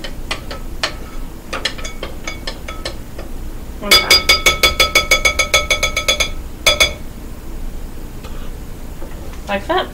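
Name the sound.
spoon put into the sink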